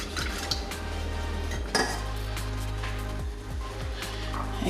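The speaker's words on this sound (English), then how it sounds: "we will stir our ingredients" A utensil scrapes and clinks against a pot while cake ingredients are stirred over low heat, producing repeated close metallic taps and scrapes over a steady low hum.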